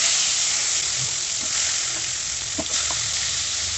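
Koi fish slipped into hot oil sprinkled with turmeric sets off a loud, steady, close hiss of frying, with a few brief spatters and pops breaking through the constant sizzle.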